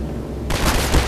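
A burst of rapid gunfire in Half-Life 2 Episode 2 aimed at a box, loud dense shots starting abruptly after a moment of game background noise.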